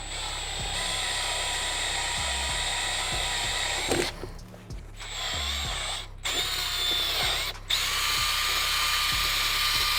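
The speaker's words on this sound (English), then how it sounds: "So you're gonna have some burrs after you drill through there." An electric drill whines steadily at high speed drilling through a wheel for a Rascal GT drag kart build, pausing briefly twice before spinning up again, close and loud with no talking.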